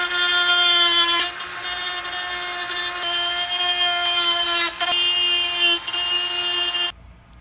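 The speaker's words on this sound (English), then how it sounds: "So I'm gonna dress the welding surfaces now" A power tool dresses metal welding surfaces on a beginner snowblower welding project, giving a loud, steady, high-pitched grinding whine that dips slightly a few times before cutting off abruptly near the end.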